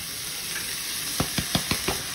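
Onions sizzle in hot oil in a pan, a steady close frying hiss with a quick run of five rhythmic stirring scrapes near the end.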